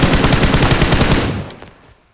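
Rapid automatic gunfire from a weapon fitted with a 4x scope in a shooter video game, a dense burst of evenly spaced loud shots that cuts off and decays within about a second and a half.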